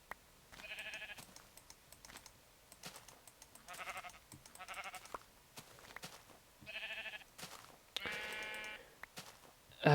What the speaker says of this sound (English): Come here, sheep.